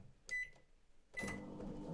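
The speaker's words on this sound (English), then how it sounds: "Now this is a 900 watt microwave." A 900 watt microwave oven heating a cup of water, running off a portable power station with a steady electrical hum, a short beep near the start, then a louder burst of buzzing noise.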